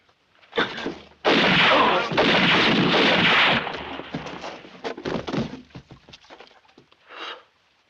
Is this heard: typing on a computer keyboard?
no